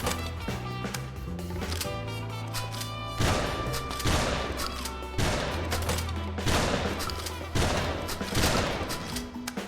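Rapid gunfire in the shooting section of the video game Chicken Police: Into the Hive, several bursts of loud repeated shots cutting through steady background music, with no talking.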